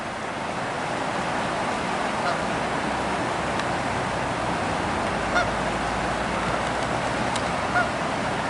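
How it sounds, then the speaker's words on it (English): Geese honk in scattered calls at a distance in Yellowstone's Norris Geyser Basin, nearly buried under a steady, loud rush of wind or water. "The geese went too far."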